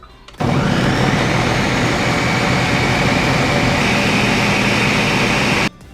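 A blender running a full jug of drink made with orange juice, a loud, constant roaring whir that starts suddenly, holds steady for about five seconds, then stops abruptly.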